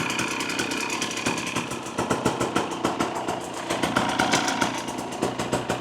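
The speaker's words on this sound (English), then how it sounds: "Sounds to be idling fine to me." A 2024 Husqvarna TE250 TBI dirt bike engine with an FMF Turbine Core 2.1 exhaust idles steadily and close by, its rapid, even putter continuing throughout with a slight rise in loudness partway through.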